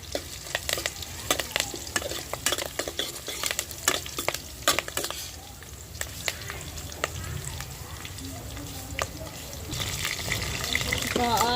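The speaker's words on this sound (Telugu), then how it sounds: "ఈ విధంగా అయితే ఫ్రై చేసుకున్నాక కొద్దిగా కరివేపాకు వేసుకున్నాం" Curry leaves and flat beans fry in oil in a pan over a wood-fired stove, with crackling spatters and scraping stirs up close. The sizzle swells louder toward the end.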